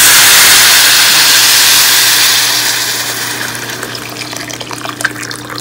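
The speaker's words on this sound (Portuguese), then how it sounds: "Eu deixei no máximo aqui pra poder ele fritar a cebola e tudo" Onion frying on an induction stove set to maximum heat, a loud broadband sizzle that fades somewhat after a few seconds, with a steady hum underneath and a few sharp pops toward the end.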